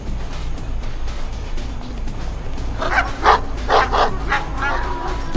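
Junkyard dogs bark in a run of sharp, closely spaced yips and whimpers in the Chłopaki nie Płaczą video game, loud and near over a low steady hum, with faint murmuring in the background.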